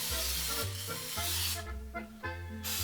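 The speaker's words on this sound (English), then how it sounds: "I'm spraying my pans with Pam" Pam cooking spray misted onto baking pans in a home kitchen, two or three short hissing bursts set against a steady low background hum.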